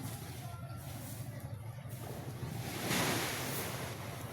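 Ocean waves breaking on a shore, a steady wash of surf with wind buffeting the microphone and swelling louder near the end, with low background rumble and no clear speech.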